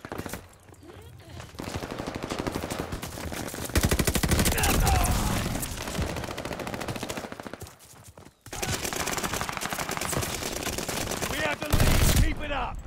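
Bursts of automatic gunfire in the Call of Duty Vanguard video game, dense rapid fire that runs nearly throughout at loud level, breaking briefly around the middle before resuming.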